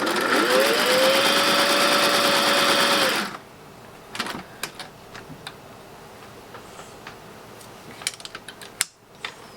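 A vintage Singer 600 Touch N Sew sewing machine whirs loudly and steadily for about three seconds while stitching, then stops, leaving scattered quiet clicks and taps.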